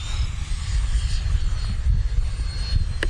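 A Freewing F-15 RC jet with a 90mm ducted fan and 1900 kV motor roars past in flight, a loud steady airy rush with slight swells in volume, heard outdoors without talking.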